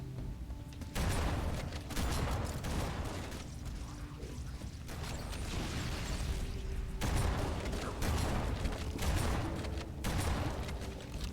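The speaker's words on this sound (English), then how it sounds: "Love this shotgun, dude. It's great. Beats everything" Gunfire from a shotgun in the Halo CE Anniversary video game, a dense burst of booming shots and clattering game effects that comes in loud waves across the clip, with no talk.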